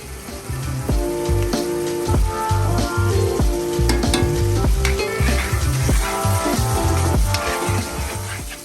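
Demi-glace sizzles and bubbles loudly in a hot frying pan, a steady crackling hiss with spattering pops throughout, close up.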